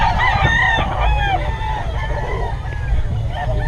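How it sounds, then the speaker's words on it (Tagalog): Several roosters crow and cluck in overlapping calls against a low rumble and crowd babble at a busy gamefowl gathering in Bocaue. "ano masasabi mo sa mga manok ni Boss Eric?"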